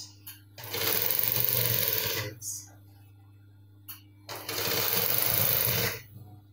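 A sewing machine stitches the edges of a cargo pocket in two loud, close, fast whirring runs of about two seconds each, separated by a pause with a faint click, over a low steady hum.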